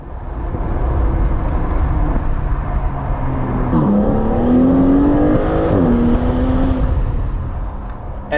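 A 2021 Aston Martin DBS Superleggera engine drones loudly from inside the cabin with the windows up, its pitch climbing steadily through a gear change under a constant road roar.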